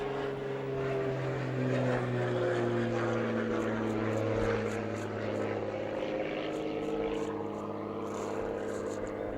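A propeller plane drones overhead with a steady, throbbing engine tone that slowly shifts pitch as it passes, fairly loud and continuous.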